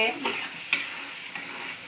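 A ground paste of onions, chili, white sesame seeds and cashews fries and is stirred in a pan for vegetable biryani, a soft close sizzle broken by a few light scraping stirs.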